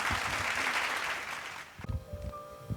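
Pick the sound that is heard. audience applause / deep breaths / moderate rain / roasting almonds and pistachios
audience applause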